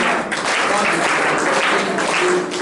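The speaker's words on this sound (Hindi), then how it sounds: "जोरदार तालियां" A large crowd at a Hindi-promotion ceremony in Nagda applauds loudly and continuously, dense clapping filling the whole stretch without pause.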